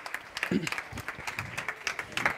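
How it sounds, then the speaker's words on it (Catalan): A startup-event audience gives a round of applause for a pitch presenter, brisk and fairly close, with irregular bursts of clapping and a voice briefly heard underneath. "Un fort aplaudiment a la Juana, que ho ha fet superbé."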